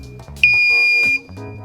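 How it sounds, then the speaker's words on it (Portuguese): High-level alarm from an ammonia refrigeration system level controller: a single sharp, steady electronic beep lasting under a second, loud and close, with low mechanical hum before and after. "Então depois de 10 segundos, o alarme dispara."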